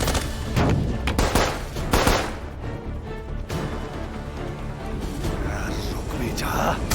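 Gunfire in a Hindi animated movie: bursts of rapid shots and blasts, loud and dense, with a voice talking over the action.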